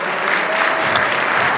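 A gala crowd at a heritage association's 25th anniversary event breaks into a brief, dense burst of clapping, steady and fairly loud for under two seconds.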